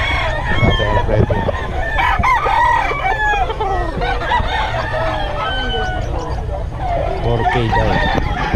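A black hen clucks and calls amid a busy poultry festival expo, with roosters crowing repeatedly nearby over a constant crowd murmur and overlapping voices of people talking.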